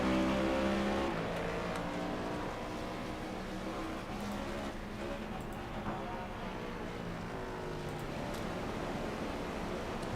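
Stock cars roll out onto the Mid-Ohio course in iRacing, a steady, continuous engine drone and rushing noise with no distinct revs, heard from an overhead distance.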